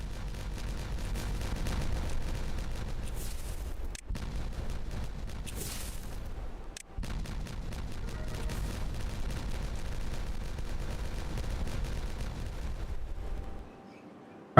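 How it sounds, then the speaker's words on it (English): Low, rumbling booms and crackling blasts of explosions in the building game Timberborn, sustained and dense at moderate level with two brief cuts, then fading out at the end; no talking. "I'll just do this before I go, because we like explosions."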